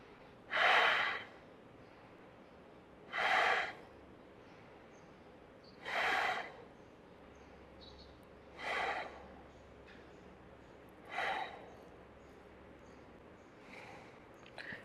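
Five deep, slow breaths during a hatha yoga pose, each a loud, breathy exhale spaced about two and a half seconds apart, close and otherwise quiet, the last one fainter.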